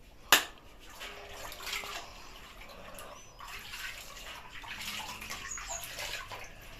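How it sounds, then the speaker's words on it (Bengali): Water sloshes and swirls softly as potash is stirred in for a pigeon bath, with one sharp knock at the start and faint, continuous splashing after. "এই যে দেখুন পটাশ দিয়ে পানিটা গোলা দিচ্ছি"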